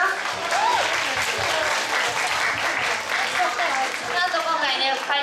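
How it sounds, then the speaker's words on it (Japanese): Steady, dense applause from an audience at the ending of a Korean party event, loud and sustained throughout with crowd voices mixed in. "出演者さんの皆さんに大きな拍手をお願いいたします"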